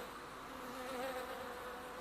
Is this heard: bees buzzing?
yes